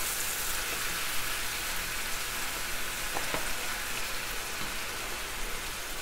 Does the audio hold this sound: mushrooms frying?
yes